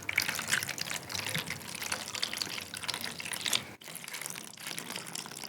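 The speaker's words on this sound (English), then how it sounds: "The water coming off the deck." Ocean water rushes and splashes as it runs off a boat deck, a continuous close wash of pouring and dripping with a brief break near the end.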